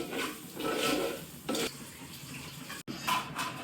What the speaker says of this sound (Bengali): চিনি, এলাচ, তেজপাতা এগুলা দিয়ে চাউলটা ভেজে নিব।